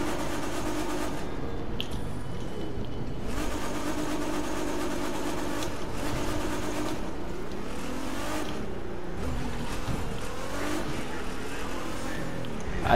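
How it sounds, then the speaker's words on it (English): Steady, dense classic American muscle car engine noise in the video game The Crew 2, with rising and falling revs, continuous and fairly loud throughout. "That's the sound of classic American muscle car engines"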